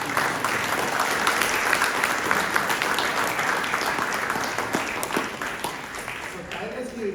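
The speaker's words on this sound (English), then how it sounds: "I think we all owe a reverential round of applause for Parama Puja Shri Swamiji." A large audience gives Swamiji a reverential round of applause at a Bhagavad Gita event for children memorisers. The dense, steady clapping lasts several seconds before slowly thinning, and voices are faintly present.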